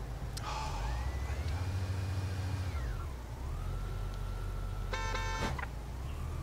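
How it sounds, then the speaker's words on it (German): A car horn honks in the Autobahnpolizei Simulator driving game, with a long steady tone and later a short burst of honks over a constant engine drone and background siren-like tones. "Warum hupt der jetzt? Mann, hör auf zu hupen,"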